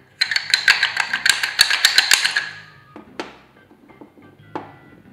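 A Hanayama X cast metal puzzle being manipulated up close, producing a rapid run of sharp metallic clicks and taps for about two seconds, followed by a few sparse, quieter clinks.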